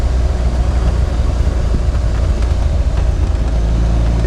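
Steady loud engine drone and exhaust rasp from an MK Indy RX 5 160 fitted with a track day silencer, heard from inside the car while driving, continuous with no talk.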